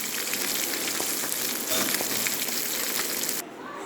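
Two pieces of fish fry in a pan of oil, a steady bright sizzle that holds strong and then drops abruptly quieter near the end, with no talking over it.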